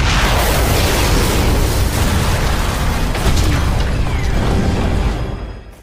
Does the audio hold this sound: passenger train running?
no